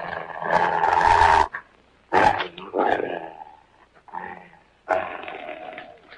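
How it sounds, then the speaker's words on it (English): A dog growls and snarls in loud, rough bursts, with a long rumbling stretch followed by several shorter growls separated by pauses. "That's a dog."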